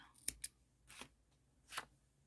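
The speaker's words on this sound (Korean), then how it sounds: "여기에서 빨간색 실은 이제 다 썼기 때문에 잘라주세요" Scissors snip red yarn during crochet of a watermelon-pattern scrubber: a couple of quick sharp clicks, then two softer cuts, close and quiet in an otherwise still room.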